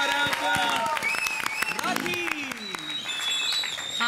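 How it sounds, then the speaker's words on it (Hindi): A television comedy show's studio audience claps in a brief burst, mixed with crowd noise and voices talking and laughing over it. "भैया तालियां हो जाए।"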